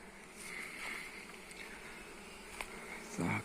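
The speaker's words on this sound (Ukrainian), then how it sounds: "Вся бджола злітається, виглядає ніби такий більшенький нуклеус злетів." A steady, buzzing drone of a honeybee swarm flying together fills the air, with a few louder bumps and rustles near the end.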